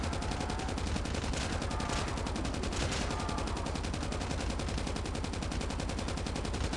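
Rapid automatic weapon fire from Call of Duty: Mobile during a boss fight, dense continuous bursts of loud gunshots rattling throughout with a few heavier impacts mixed in.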